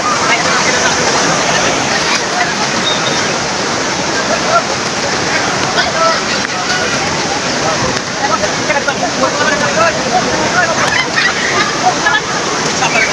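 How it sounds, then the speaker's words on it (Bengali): River waves wash over bare feet at the shore in Kuakata under strong wind, a loud, continuous rushing roar of water and gusts without a break. "ঢেউগুলো আসতেছে পায়ে লাগছে"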